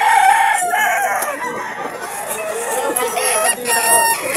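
A gamefowl rooster crows loudly and close by, its harsh drawn-out call filling the moment, with faint clucking and farmyard noise around it.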